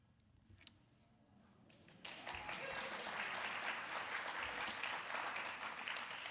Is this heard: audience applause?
yes